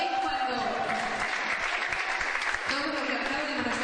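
A church congregation applauds during a Spanish-language sermon, a broad continuous clapping that runs under the preacher's ongoing speech.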